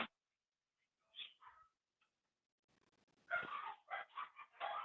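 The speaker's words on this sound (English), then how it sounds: "Oh my God, my dogs." Several dogs bark indoors in a room, a few short yaps early on, then a burst of loud, close barks in quick succession near the end.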